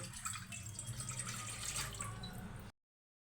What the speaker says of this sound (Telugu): నీళ్లు పోసుకొని